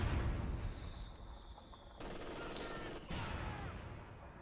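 Dense battle gunfire from Company of Heroes 2, including MG42 machine-gun bursts and rifle shots near a mortar squad, crackles as a loud, steady barrage with abrupt shifts in intensity.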